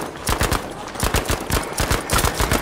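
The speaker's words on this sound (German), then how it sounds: "Irgendein MG oder so?" Rapid bursts of machine-gun fire in the World War II shooter game Battlefield V, loud and close, firing in quick rhythmic volleys with short gaps between bursts and no talking.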